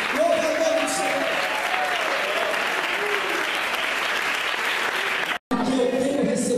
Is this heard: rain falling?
no